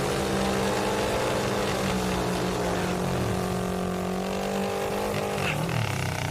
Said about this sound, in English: Marc Ingwersen and Chris Bostick getting ready to fire up now